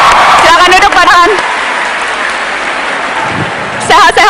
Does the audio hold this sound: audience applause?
yes